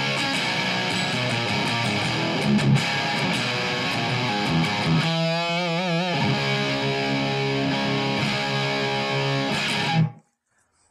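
Electric guitar through a Seymour Duncan Twin Tube Mayhem pedal at 50% gain: loud, crunchy distorted chords with a wavering bent note midway, played steadily before stopping abruptly.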